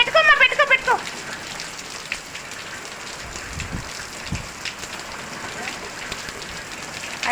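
Steady rain falls in a dense, even patter that carries through the whole stretch, with a brief voice sounding at the very start before the rain continues alone.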